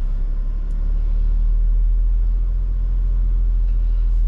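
A 2016 Ford Transit van engine rumbles with a low, steady drone that rises slightly as the revs climb and then holds, no voices present; the van has VVT and O2 sensor fault codes.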